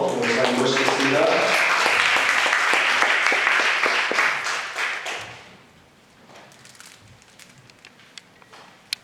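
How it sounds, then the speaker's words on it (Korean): A church congregation claps loudly to welcome the pastor to the pulpit, with dense applause for about five seconds before it fades to scattered claps and quiet room noise. "우리 다시 한번 큰 박수로 목사님 모시겠습니다"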